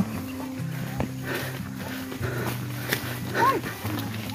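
A dog barks a few times outdoors, mixed with people talking and rustling background noise.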